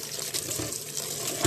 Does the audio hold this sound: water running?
yes